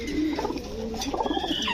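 Red checker pigeons coo softly in a small group, a low murmuring burble that runs steadily throughout with faint rustling and no talking.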